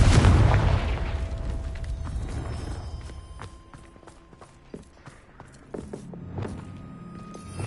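A Confringo spell blast in Hogwarts Legacy near a Thestral nest: a loud booming explosion at the start that rumbles and fades over several seconds, followed by scattered thuds, clatter and small impacts.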